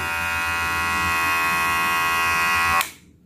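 A Kemei KM-L2611 cordless hair clipper runs with a loud, steady electric buzz for about three seconds and then is switched off, the hum cutting out abruptly.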